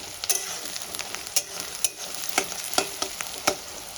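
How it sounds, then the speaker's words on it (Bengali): Onions fry in a pan with a steady close sizzle while a utensil stirs them, scraping and tapping in irregular strokes every half second or so, with no talking. "পেঁয়াজটা আমি লাল লাল করে ভেজে নেব।"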